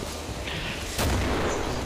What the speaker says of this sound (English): It was a grenade.